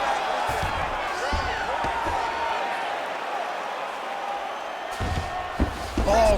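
A video game arena crowd in EA Sports UFC 5 roars and cheers steadily during a fight, a dense wash of voices with a few sharp thuds and a commentator talking over it.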